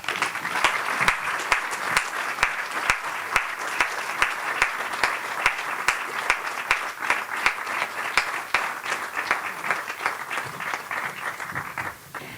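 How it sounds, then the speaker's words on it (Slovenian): An audience at the Tolmin municipal council's ceremonial session breaks into sustained applause, a dense even clapping crowd with individual sharp claps standing out, fading near the end. "Za vse skupaj en aplavz."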